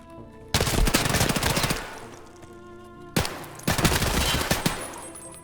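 Gunfire in Escape from Tarkov while fighting scavs on the Reserve map, two loud bursts of rapid automatic fire, each with ringing decay, close and dominant with no voices.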